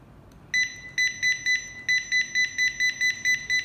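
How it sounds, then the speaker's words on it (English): A handheld Henex barcode scanner gives a quick run of short, sharp electronic beeps, about a dozen in steady succession as it reads 1D and 2D codes on assorted products, loud and close with no talking. "it can read 1D and 2D barcodes on different kinds of products and different kinds of materials"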